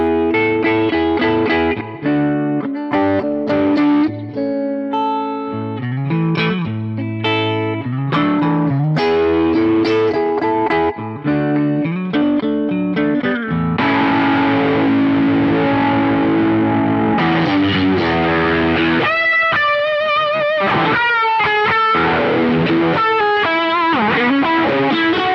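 Electric guitar played through a Wampler Terraform modulation pedal stacked with distortion, giving a lead tone; loud, sustained distorted lines and chords with swirling modulation, alone with no talking.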